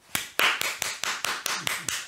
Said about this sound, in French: Les gens applaudissent derrière leur écran derrière leur téléphone.